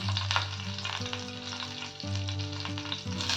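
Urad dal and green chillies temper in hot oil, crackling in a steady close sizzle with faint stirring scrapes and a low hum underneath, moderately quiet and without voices.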